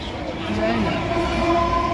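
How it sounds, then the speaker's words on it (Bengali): A Sealdah local train passes nearby, a steady rumbling roll with a faint tonal squeal over it, heard beneath people talking. "এটা কোন ট্রেন বেরিয়ে গেল রে"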